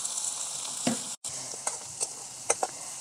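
Onions, curry leaves, cumin, mustard seeds and green chili sautéing in a pan, a quiet continuous sizzle broken by scattered spoon clinks and stirring scrapes, with one brief dropout.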